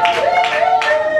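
A wedding congregation claps at a church nuptial blessing, delivering a few loud rhythmic bursts roughly every half second over a steady sung or sustained tone.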